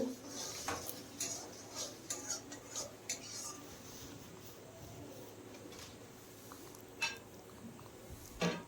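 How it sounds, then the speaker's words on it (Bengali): Fried potatoes and pointed gourd go into a pan of spices for a vegetarian curry, with light scattered clinks and scrapes of a utensil against the pan, fairly quiet and close. "এখন এখানে দিয়ে দিতে হবে ভেজে রাখা সেই আলু আর পটল।"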